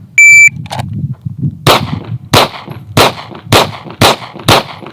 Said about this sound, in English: It feels way better shooting that than with the other gun.